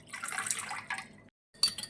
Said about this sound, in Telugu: చిల్డ్ వాటర్ వేసుకోండి ఇందులో.